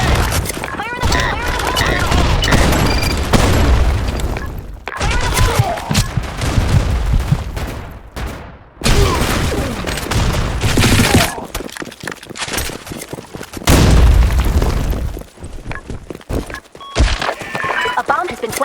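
Blackshot match gunfire and grenade blasts: dense bursts of rapid shots and loud booming explosions rattle on almost continuously, harsh and close, with game voice announcements and player talk mixed in.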